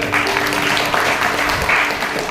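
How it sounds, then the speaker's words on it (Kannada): A seated audience at a pre-marital seminar claps steadily and fairly loudly, a continuous wash of applause with a faint hum beneath it. "ಹೆಗ್ಗಾಳ, ಅವ್ರಿಗೋಸ್ಕರ ಚಪ್ಪಾಳೆ"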